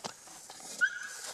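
A sled dog whimpers in the snow: a soft snuffle, then a thin, high, drawn-out whine that rises and trails off, close by and brief.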